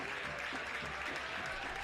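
A stadium crowd at a professional soccer match applauds a substituted player as he leaves the field, a steady wash of clapping from many hands heard from a distance with no single voice standing out.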